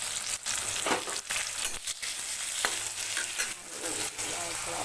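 Onion, garlic, fresh green chilies and dried chilies frying together in oil left from frying fish, a continuous close sizzle broken by repeated stirring scrapes and clatters in the pan.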